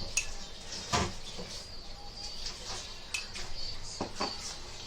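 Onions tipped into a cooking pan for a Konkani-style ridge gourd (turai) salan, heard as a few sharp clatters and scrapes of pan and utensil over a steady low background hiss, with birds chirping faintly nearby.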